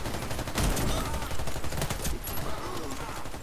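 Rapid bursts from a Tec-9 submachine pistol in the Warface shooter on the Oil Depot map, dense continuous gunfire crackling throughout at moderate loudness.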